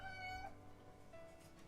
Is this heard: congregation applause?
no